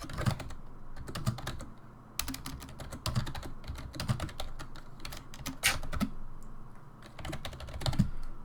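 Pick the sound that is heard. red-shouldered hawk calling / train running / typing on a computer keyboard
typing on a computer keyboard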